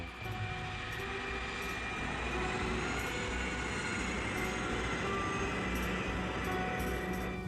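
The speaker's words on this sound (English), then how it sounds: "The KLM plane is groping its way through fog." A KLM airliner taxis through thick fog, its jet engines giving a steady, continuous roar and whine that holds level throughout without any voices.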